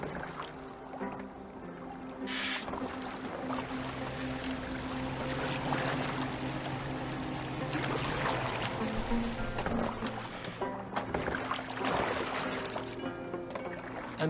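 Boat gliding over water in Assassin's Creed Valhalla, a steady wash of lapping, trickling water and hull movement running throughout, with a low ambient hum and occasional splashes beneath.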